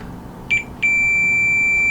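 A multimeter in continuity mode gives a short chirp, then a steady sustained beep while probing a laptop fuse on an HP 15s during liquid damage repair, close and clear with no talk.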